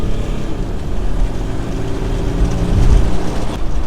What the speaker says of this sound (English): It sounds different in sport mode as well. It's got more of a growl.